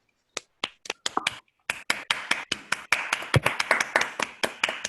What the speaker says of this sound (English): let's give our speaker a round of applause